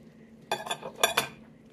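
Chicken meat being pulled off the bone into a dish, a few quick clinks and scrapes of utensil against dishware in a short cluster, close and otherwise quiet.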